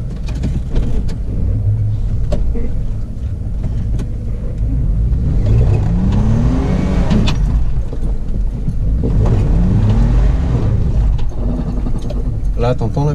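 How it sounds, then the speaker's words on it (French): A 4x4 car's ABS brakes engage while it drives in low-range four-wheel drive, over a steady loud engine rumble with rising revs, and people talk throughout. "Là, t'entends l'ABS ?"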